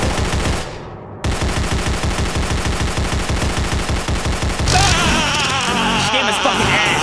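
Rapid, loud video game gunfire in sustained automatic bursts, dense repeated shots that pause briefly and resume, then shift into a harsher mix of gunfire and explosions.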